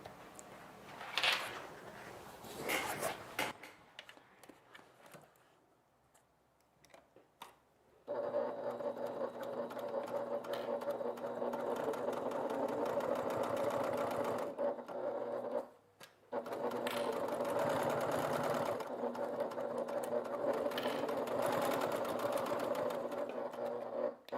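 A sewing machine stitches a seam on an evening bag, its motor whirring in long steady runs with a short pause midway, after some scraping and handling sounds and a near-silent gap.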